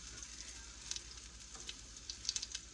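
Raw zucchini fritters fry in a pan with a quiet, steady sizzle and scattered small crackles and pops.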